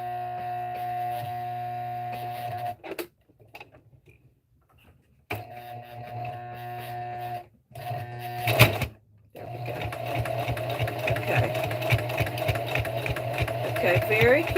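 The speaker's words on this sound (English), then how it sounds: "I am stitching around the pot holder" A sewing machine stitches around a pot holder in close, steady bursts of humming, whirring motor noise, pausing briefly several times before resuming in a longer run.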